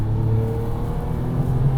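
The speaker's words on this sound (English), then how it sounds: "when you hit the throttle, you still have to wait a second or so for that boost to really come on" A Porsche 959 twin-turbo flat-six pulls under load as the boost builds, a steady engine drone heard from inside the car, loud and even with a slight rising tone.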